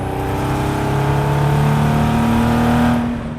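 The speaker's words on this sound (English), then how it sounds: "I will coordinate the exhaust note to our speed since I don't have a tach" Chevy-powered 1971 Datsun 240Z accelerating, its exhaust droning loud and steady with a slowly rising engine tone that holds for several seconds before easing off.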